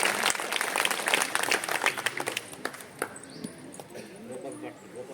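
An audience at an unveiling ceremony in Basavadhama, Shivapura, claps loudly for about three seconds before the applause thins out, with a voice speaking over it.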